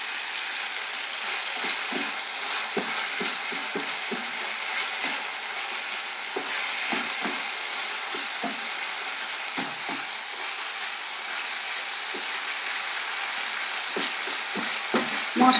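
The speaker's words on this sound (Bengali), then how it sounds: "মশলা আমার প্রায় ভাজা ভাজা হয়ে এসেছে, ক্যাপসিকামও নরম হয়ে এসেছে।" Spices, dried fenugreek leaves and capsicum sizzle in a pan for palak paneer, a soft continuous fry broken by frequent scraping taps of a spatula as the mix is stirred, with no talking.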